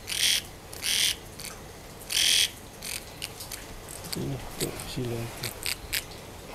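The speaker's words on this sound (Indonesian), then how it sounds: "Ya, ini nama tonggeret ya. Atau suka disebut garengpung." A cicada near a lamp at a glamping cabin in the Bandung highlands gives loud, buzzy bursts repeating every second or so, close by, with a person speaking softly between them.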